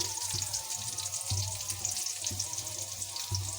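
Onions sizzle and crackle in a hot pan, a steady frying hiss punctuated by a few soft knocks.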